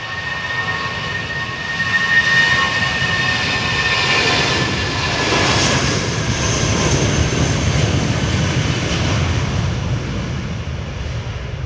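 A jet airliner at Amsterdam Schiphol Airport roars steadily with loud broadband engine noise and a high whine, rising slightly as it powers up for a crosswind takeoff.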